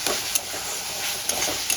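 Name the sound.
tomato being stirred and sautéed in a pan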